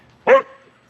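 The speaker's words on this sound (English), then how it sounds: "Sorry about the barking." A single short dog bark, sharp and fairly close, then quiet.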